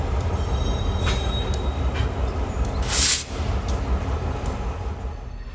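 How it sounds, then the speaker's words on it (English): A Vermont Rail train rumbles and clanks while switching in a rail yard, wheels and couplers knocking irregularly, with a brief squeal partway through. "Back in the yard, Vermont Rail is switching a train"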